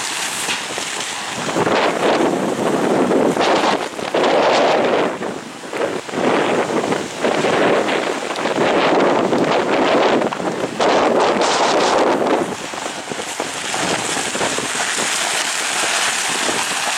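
Strong gusting wind at a paragliding venue in Aceh buffets the microphone in loud, continuous roaring surges that swell and ease over time, with no voices.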